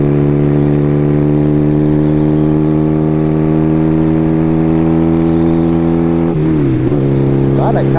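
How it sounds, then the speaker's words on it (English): Strong wind roars steadily while a motorcycle is ridden on the road. The buffeting stays loud and constant, with a droning engine tone beneath that dips and wavers briefly toward the end. "So I gotta head home because this wind is getting worse."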